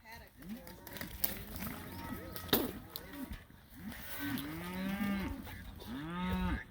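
Cattle moo repeatedly during a cattle drive along a road, several overlapping low calls close by, with a sharp knock partway through and people talking over the herd.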